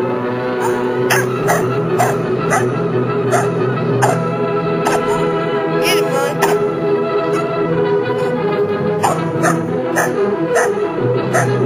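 Loud, repeated yapping barks and whimpers come in quick bursts throughout, over a steady tonal hum.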